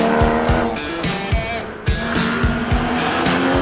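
A 2015 Porsche Cayman 981 GT4 with a mid-mounted 385-horsepower six-cylinder and six-speed manual gearbox, driven hard on semi-slick tyres, engine revving loudly and close with repeated tire squeals and skids.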